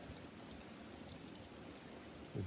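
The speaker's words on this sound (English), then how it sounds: "There's a bit of a waterfall up there." Creek water running fast after heavy rain, a continuous broadband rush and babble that stays fairly faint and steady from start to finish.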